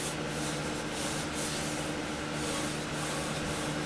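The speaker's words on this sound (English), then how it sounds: "I always use my wet sanding when I'm sanding it down, so it doesn't gum up." Steady close rubbing and scraping of wet sandpaper worked over a turned wooden vase, a continuous hiss without breaks or talk.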